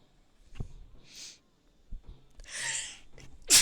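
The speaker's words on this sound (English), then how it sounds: "Trying not to sneeze into the microphone doesn't do much good when the microphone's like 2 inches away from your face" A single sneeze right up against a microphone, preceded by a few sharp inhaled breaths and sniffs, then a loud hissing burst that clips at the end.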